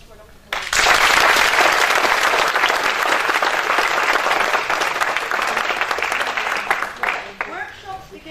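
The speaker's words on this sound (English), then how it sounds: "a big round of applause for Dr. Kalinowski." Conference audience breaks into loud, sustained applause after a sudden start, dense clapping filling the hall for several seconds before gradually thinning out near the end.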